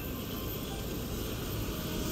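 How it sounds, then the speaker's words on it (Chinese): A helicopter sits at the Dongfeng landing site as it prepares to lift off, its engine giving a steady, continuous droning rumble heard from a distance, faint and unchanging throughout. "现在直升机已经准备起飞。"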